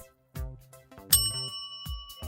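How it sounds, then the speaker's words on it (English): A bright electric bell rings out in sharp, clear strikes with a lingering metallic tone, alongside short tonal cartoon-like sounds, close and fairly quiet. "How does an electric bell work?"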